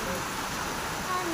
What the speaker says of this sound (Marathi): आमच्याकडे पाऊस सुरू झाला आता मोठा